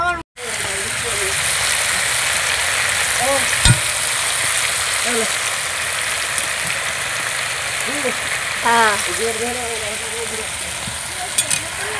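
Chicken cooking in a pot over a clay mud stove for homemade biryani gives a steady, close sizzling hiss that runs the whole time, with a few faint tonal sounds in the background.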